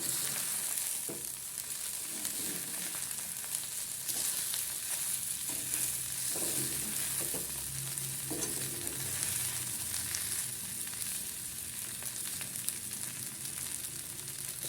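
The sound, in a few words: sabudana khichdi cooking and being stirred in a pan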